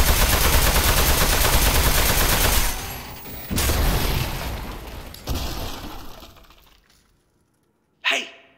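Shooting in the Aperture Desk Job video game: dense, loud rapid-fire bursts that cut out and restart in several waves, fading out into near silence before one final sharp crack.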